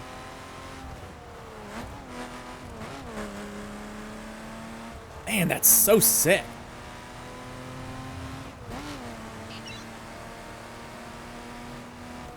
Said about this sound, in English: Car sounds nice as well.